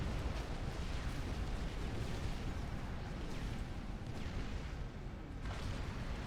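Seraphim T3 artillery firing in a real-time strategy video game: a continuous barrage of heavy, overlapping booms and rumbling blasts that stays loud throughout with no pauses.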